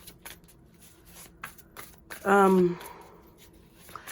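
Tarot cards are shuffled in quick, papery riffles and flicks, with a brief tonal voice cutting in partway through.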